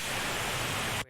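A harsh, aggressive distorted synth tone from Ableton Live's Operator, a dense noisy roar held steadily at moderate level for about a second before cutting off abruptly.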